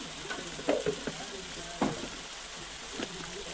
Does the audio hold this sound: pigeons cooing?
no